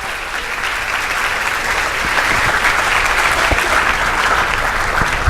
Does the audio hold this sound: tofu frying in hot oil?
no